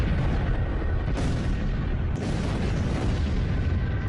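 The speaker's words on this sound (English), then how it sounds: "the fireball entered our atmosphere and violently exploded above Siberia's" A meteor fireball explodes above the Tunguska forest in Siberia as one massive, continuous roaring rumble, deep and loud, that never lets up.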